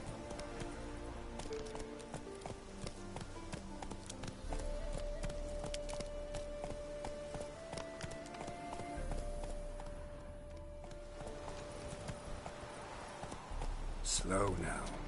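Roach, a horse in a video game, galloping with steady rhythmic hoofbeats under music and game ambience, with a voice talking over the run.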